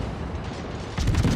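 Naval gunfire rumbles through a World of Warships battle, with a low continuous boom and a louder burst of heavy shots near the end, with no talk.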